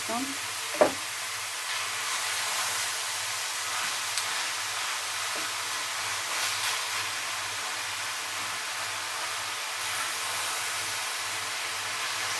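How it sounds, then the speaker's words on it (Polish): Minced meat sizzles steadily in a large dry pot, a constant, moderately loud hiss. A spoon or spatula gives a clear knock near the start and a few soft scrapes of stirring later. "I mięso nam się zapieka. Delikatnie będę mieszała"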